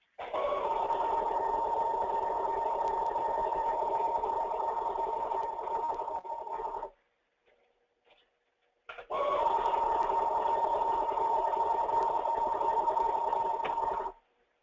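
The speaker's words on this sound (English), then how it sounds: "the pump on the 520 has a signature sound due to the motor" An ASX-520 autosampler pump motor runs with a steady buzzing drone, close and loud. It cuts out for about two seconds, then starts again and runs for another five seconds before stopping.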